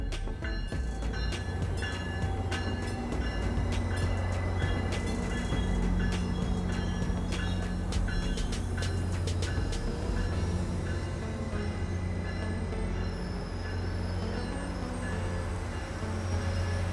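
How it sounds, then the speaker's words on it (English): An Arrow commuter train, a new Stadler FLIRT, pulls forward along track 2 to a high-level boarding platform with a loud, steady rumble of engine and wheels, close by and without talk. "our Arrow train pulls forward to the high-level boarding platform on the eastern end of track 2"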